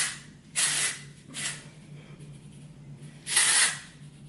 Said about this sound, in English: So I have the Way Texturizing Hairspray and the Bumble and Bumble Surf Spray.